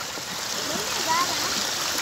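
A fast-flowing stream swollen by heavy rain and hail in Kathmandu, carrying dirt and debris, rushes in a close, continuous roar with a person talking over it.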